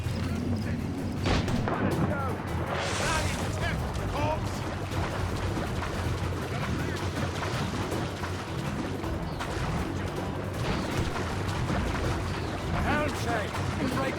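Ship mortar fire during a naval battle in Assassin's Creed Rogue, heavy booming blasts and cannon rumble running continuously through a dense, loud battle din with voices shouting over it.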